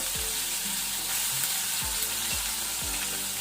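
Two tablespoons of ginger garlic paste fry over a low flame in a pan for a Mangalore-style crab masala, a loud, continuous sizzle with occasional scraping strokes of a spoon and no talking.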